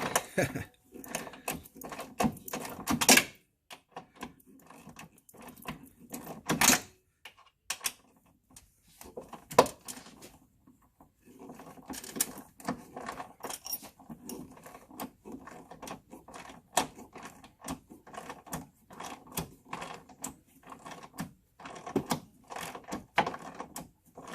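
Long bolt being unscrewed on a 2019 Camaro SS during an oil separator install, giving a run of close, irregular clicking and ratcheting taps with short pauses and some quiet talk.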